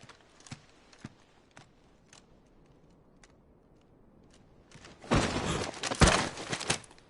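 Horse hooves clip-clop in Final Fantasy XVI: a few slow, evenly spaced, faint hoof knocks, then a louder rush of crunchy noise near the end.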